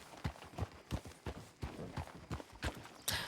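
Hooves of a large horse clopping at a walk in a roleplay video game, regular paced thuds about three per second, clear and fairly close.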